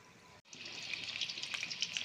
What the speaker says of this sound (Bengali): এইবারে আমি ভেজে নেবো এগুলোকে লাল লাল করে